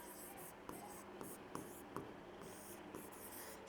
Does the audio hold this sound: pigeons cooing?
no